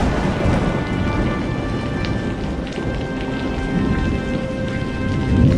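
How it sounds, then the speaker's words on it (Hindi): Heavy, unbroken rain pours down over a village in a prolonged downpour, a loud dense hiss of falling water with deep rumbling underneath, steady throughout with no voices. "ये बारिश तो थम ही नहीं रही।"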